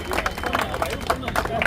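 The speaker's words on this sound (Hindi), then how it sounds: "एक बार धर्मवीर जी के लिए जोरदार तालियां हो जाए।" An audience at a village ceremony in Pali, Mahendergarh, claps loudly for an honoree, a steady patter of many hands mixed with crowd babble.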